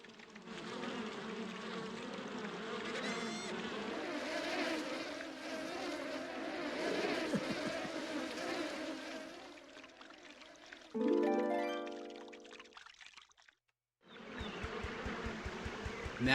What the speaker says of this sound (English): that should lure the bees away